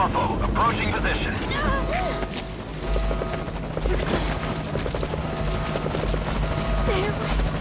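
A helicopter arrives in Metal Gear Solid V: a loud, close, continuous rotor thrum and engine drone fills the scene while voices talk over radio.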